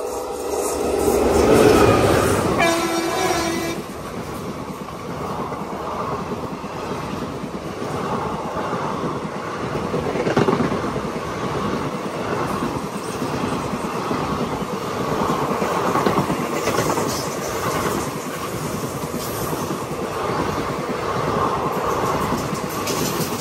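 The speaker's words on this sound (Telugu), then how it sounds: "ఈ train number 17231 Narsapur Nagarsol via Guntur." Express train 17231, Narsapur to Nagarsol via Guntur, rolls past on a South Indian line with a continuous rumble and rhythmic clatter of wheels over rail joints. The sound stays fairly loud and steady throughout, with no speech.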